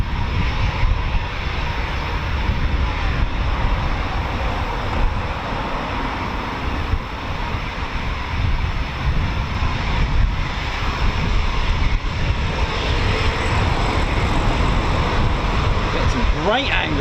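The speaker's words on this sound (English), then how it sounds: "It's quite cool because we get to see what they do on their first day on a Typhoon, and that is just taxiing." Eurofighter Typhoon FGR4 jet taxiing on the ground, a steady broadband engine roar with a whistling whine that stays at an even level for the whole stretch, with no talk.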